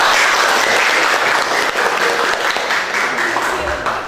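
Classroom applause at SMAN 1 Karusen Janang after a student group finishes its presentation, dense close clapping that stays loud and continuous for the whole stretch, with some voices faintly underneath.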